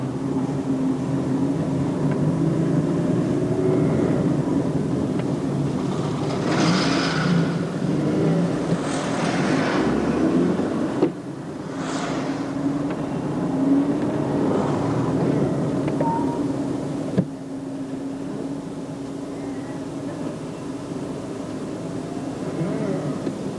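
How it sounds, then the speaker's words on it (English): Cars pass along a high street, one pulling out and braking suddenly for an oncoming vehicle turning right. A steady engine rumble rises and falls as vehicles go by, with a brief swell from a passing car. "The car which has just pulled out into the high street has to brake suddenly to allow the oncoming vehicle to complete its right turn."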